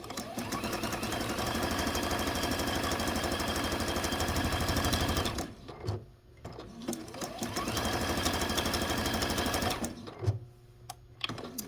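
A domestic sewing machine runs fast and steady, zigzag stitching across a quilt block, loud and continuous with two brief pauses between bursts of stitching.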